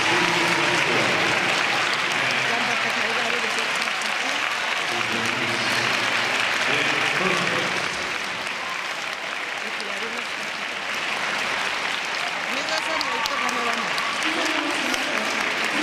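Arena crowd applauding after a ladies free skating event in Riga, sustained dense clapping and cheering throughout, with a commentator's voice over it.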